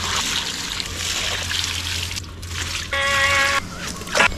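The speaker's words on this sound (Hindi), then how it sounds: "पानी डाल देता हूँ गमलों में" Water pours and trickles into flower pots outdoors, a steady splashing stream that grows louder near the end, with no voices.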